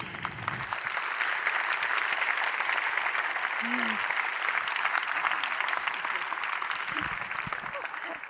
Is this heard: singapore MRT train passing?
no